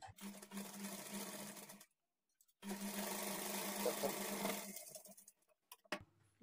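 A sewing machine runs in two steady bursts, stitching main fabric pieces of a lined blouse, with a short pause between runs and a few faint clicks at the end.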